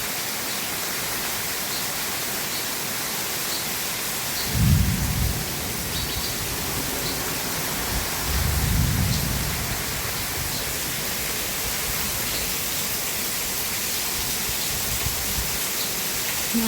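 A heavy downpour around a house gives a broad, steady wash of rushing water, loud and even, with two brief low rumbling swells partway through and no speech.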